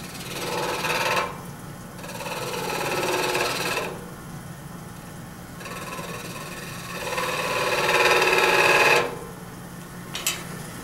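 A lathe turning a pewter finial produces a whirring, buzzing cutting sound in three long bursts separated by quieter motor hum, close and fairly loud.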